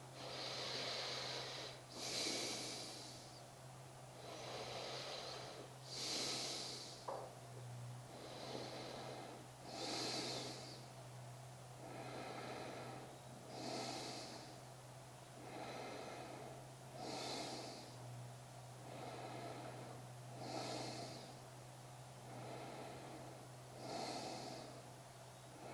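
Slow, deep breathing during a gentle yoga session for stress, with soft breaths drawn in and out at a steady, unhurried rhythm over a faint constant hum.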